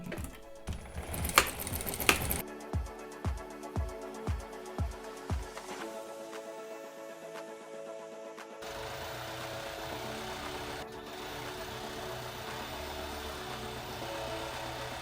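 A sewing machine stitches the folded hem of a pajama sleeve with a straight stitch. Bursts of rapid, steady mechanical clatter with short pauses between them are heard close up, followed by a lower continuous hum, with no speech.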